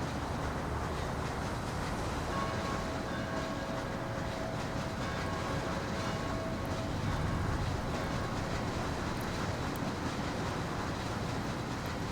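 Steady rumble of a train ride between stations in the Mafia video game, a continuous rolling drone with faint rhythmic clatter of wheels on rails, filling the full stretch without pause and with no one talking.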